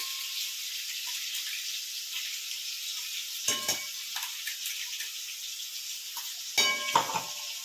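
Steady sizzling of masala frying in a hot pan, with a couple of brief scraping stir sounds partway through; no voices.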